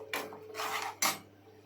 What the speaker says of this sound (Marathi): झाकण खोलून बघूया